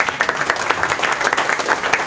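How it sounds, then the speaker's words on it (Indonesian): Audience applause at a media gathering launch event in Indonesia, a steady, dense wash of many hands clapping at close range, continuous throughout without pauses. "tepuk tangan sekali lagi untuk Pak Peter dan Pak Brando"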